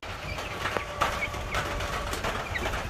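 Two-week-old Cornish game hen chicks chirp and peep in a brooder, short bright calls scattered over a steady background hum, soft and nearby.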